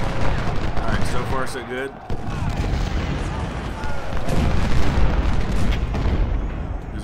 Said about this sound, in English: His artillery is going to kind of unload on me for a little bit.